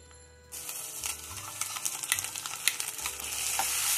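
A spoon stirs a paste of cashews and melon seeds into fried onion, ginger and garlic in hot oil for doi katla, with an abrupt sizzling start, then scraping strokes and crackling frying that build steadily.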